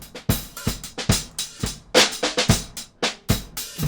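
Drum groove run through the Airwindows Energy2 plugin with its high frequencies subtracted, giving a steady pattern of close, punchy hits with a dulled, unnatural top end and no talking.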